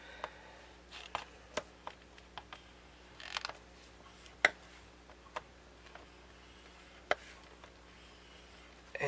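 Paper strips scored on a scoring board, a series of faint, sharp clicks and light scrapes at irregular intervals, close by in a quiet room.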